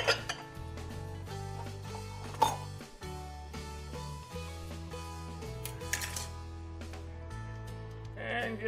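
Cheese is stirred into ham pasta in a pot, with a spoon clinking and scraping against the cookware in irregular knocks over a low background hum, close up and steady, and no talking.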